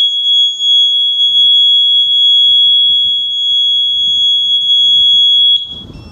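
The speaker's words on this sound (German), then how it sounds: "Das war die Alarmanlage." A Segway Ninebot G2D electric scooter's anti-theft alarm sounds a loud, piercing, continuous high-pitched tone for about five seconds, then cuts off abruptly, leaving faint handling noise.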